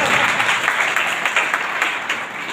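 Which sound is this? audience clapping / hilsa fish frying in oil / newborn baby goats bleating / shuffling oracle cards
audience clapping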